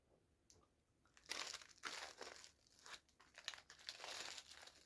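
Crinkly packet of herbal tea being worked open: loud close crinkling and tearing in repeated bursts after a quiet start, with no one talking.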